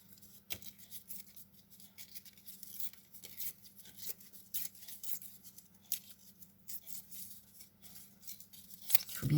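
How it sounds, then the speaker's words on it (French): A small strip of paper is torn by hand while crafting an ATC card, giving faint, soft rustling and tearing noises with a few light crinkles and a sharper rip near the end, set against a quiet room hum. "Donc je vais juste prendre une petite bande. Voilà, que je déchire."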